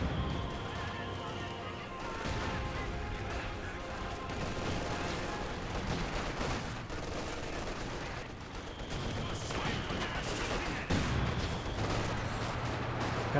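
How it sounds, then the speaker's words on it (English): Quad half-track gunfire in Company of Heroes 2, a dense, continuous rattle of automatic fire mixed with distant battle noise, with a few heavier impacts near the end. "Quad half-track firing away."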